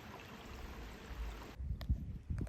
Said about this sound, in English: I followed a rocky area down to a spot where water was flowing out from beneath the rocks.